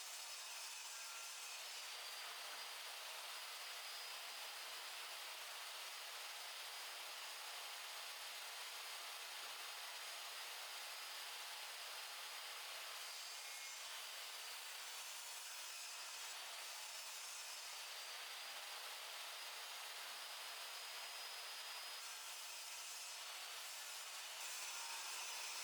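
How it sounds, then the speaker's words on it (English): A table saw cuts a long wooden board into slices about 4 cm thick, making a continuous, even, faint whirring cut that runs the whole time with no talk. "Using my table saw, I cut them in just about 4 cm thick slices"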